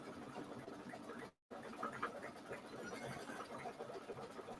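An embroidery machine stitches a turkey-design trivet with a heavy triple outline stitch, giving a steady mechanical whir with fine rapid ticking, broken by one brief full stop before it resumes at an even, moderate level.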